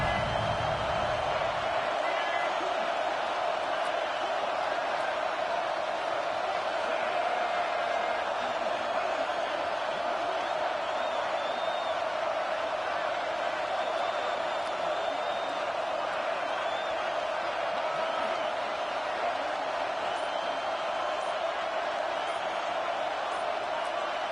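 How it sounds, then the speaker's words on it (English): Steady roar of a football stadium crowd during a defensive stand, a dense, continuous wash of noise that stays constant throughout with no clear breaks. "The roar of the crowd trying to fuel this defense to keep them pinned in their own end."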